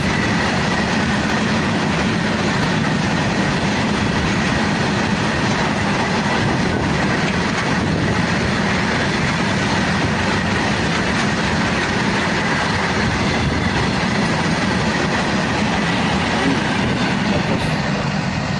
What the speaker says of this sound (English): It's a combination of 3 goods train.